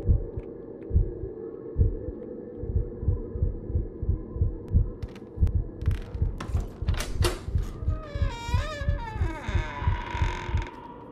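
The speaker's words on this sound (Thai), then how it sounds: "เราต้องตามเสียงหัวใจไป" Steady throbbing heartbeat in the horror game Inside The Backrooms, pulsing about twice a second throughout. Sharp clicks and a rising warbling tone break in over the beat near the end.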